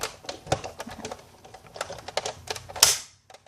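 A Big Shot die-cutting machine cuts paper framelets, giving off sharp, irregular pops and crackles up close, with a louder snap near the end before it goes quiet.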